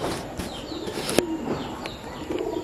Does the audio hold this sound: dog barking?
no